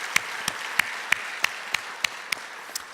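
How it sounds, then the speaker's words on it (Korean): Congregation clapping at an early-morning church prayer service, heard as a run of sharp, evenly spaced claps, roughly nine in about three seconds, over a soft hiss of background noise. "다시 한번 하나님께 영광의 박수 올려드리도록 하겠습니다"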